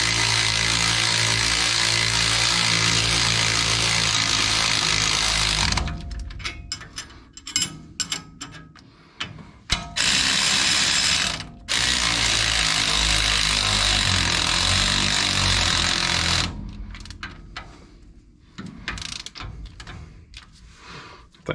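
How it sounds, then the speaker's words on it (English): A cordless battery ratchet tightens brake bolts during a disc brake conversion on a 1965 Ford F100, giving long loud whirring bursts that stop and restart, closer and steady, with no talk. "I went ahead and just went and grabbed my little battery ratchet."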